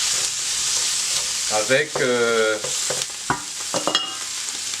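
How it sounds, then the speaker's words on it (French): Smoked pork boucané frying in a pan with oil, a continuous bright hiss and crackle throughout, with a voice speaking briefly in the middle. "je vais pouvoir ajouter mon boucané que je vais laisser frire"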